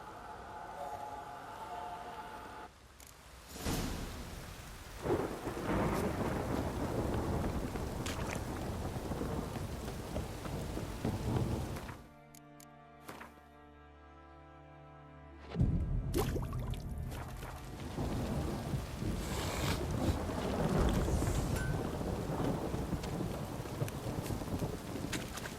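Heavy rain pours down with rumbling thunder and gusting wind in The Witcher 3 video game, a broad, loud wash that cuts out briefly midway before the downpour returns.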